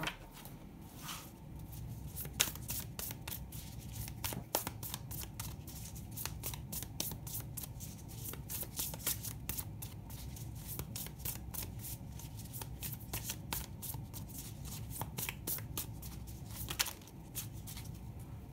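Tarot cards are shuffled and drawn in a continuous papery riffle. Crisp flicks and slaps repeat closely throughout, fairly near and quiet, with no talk.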